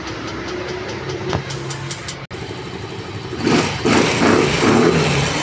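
A Yamaha Mio Gear 125 scooter engine cranks and catches, then settles into a steady, close running drone after a few seconds of ticking and clicks.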